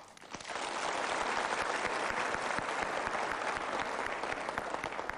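Steady, dense applause from a seminar audience fills the space for five seconds at an even, moderate level, with no voices over it.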